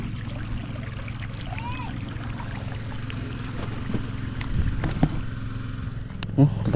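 A Robin engine and a diesel engine drive irrigation pumps in a calamansi field, a steady low droning hum under gushing water, with a few knocks and a person speaking briefly.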